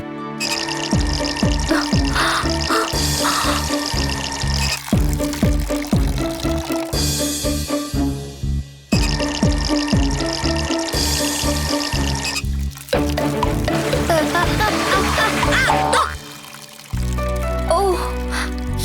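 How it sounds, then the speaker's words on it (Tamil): Water pours and splashes steadily from a leaking kitchen sink in an animated children's story, a dense continuous gush with dripping and music layered over it, broken by two brief pauses. "சமையல் அறை கழுவு தொட்டி ஒழுக ஆரம்பிச்சிருச்சு"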